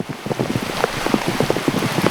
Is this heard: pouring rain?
yes